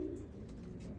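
Racing pigeons, including a deep red bird and a pure Trenton, coo softly in a loft, with low steady burbling calls running continuously at close range.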